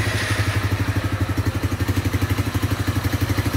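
Motorcycle with a newly fitted exhaust replacing a bare pipe, engine running close with a rapid even pulsing thump, loud and alone.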